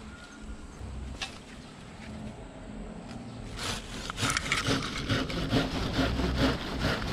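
Pruning saw cutting dead branches on an osmanthus shrub, a quiet start of rustling, then rough rhythmic rasping strokes growing louder and closer.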